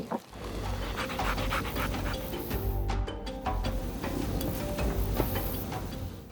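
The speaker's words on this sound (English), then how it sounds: "The pack of dogs began to spread out." A pack of African wild dogs pants steadily on open grassland, a continuous rough breathy texture with no talk.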